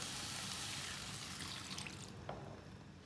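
A cup of water poured into a pan of potatoes and eggplant on a lit stove, a broad continuous splashing pour that fills the clip, then tapers off into a short trickle.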